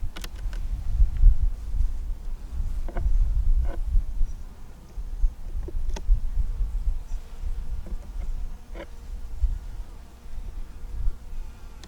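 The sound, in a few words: honeybees buzzing at an open hive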